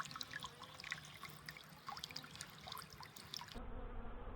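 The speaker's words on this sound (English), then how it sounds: "here we have bees hanging out at the old watering hole" Honey bees gathering at a watering spot, a soft steady buzz with faint trickling water underneath, heard at close range with no talking.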